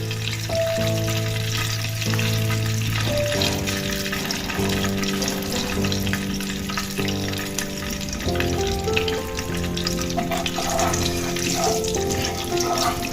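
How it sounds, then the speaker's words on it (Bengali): Nigella seeds fry and are stirred in hot oil in a pan while cooking a pointed gourd dish, giving a soft continuous sizzle under steady background music. "কালো জিরেগুলো একটু তেলের মধ্যে নাড়িয়ে চাড়িয়ে"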